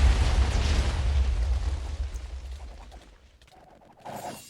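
Explosions in a Minecraft mob battle, a loud booming blast rumbling and decaying over a couple of seconds, followed by scattered clicks and a short burst of game sound.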